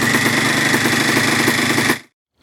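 Yamaha IT175 vintage two-stroke enduro dirt bike engine running close by, a loud rapid even pulsing buzz for about two seconds before cutting off abruptly, followed by a faint click.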